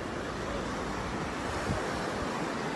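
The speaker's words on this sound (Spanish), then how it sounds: "Y aquí es la playa" Ocean surf washes onto a beach in a steady, loud roar with wind buffeting the microphone, a continuous wash of breaking waves heard alone.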